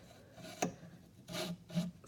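A hand saw cuts wood held in a mini miter box, giving a few short rasping strokes with a sharp click at the start, quiet and close up.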